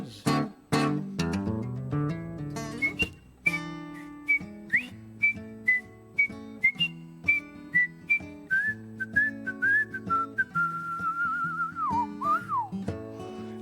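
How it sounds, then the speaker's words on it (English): A person whistles a bright, wandering melody through a face mask, with many short clear notes in quick succession and a few longer held and sliding tones near the end, close and fairly loud with no talking. "It's actually surprisingly easy to whistle through the mask."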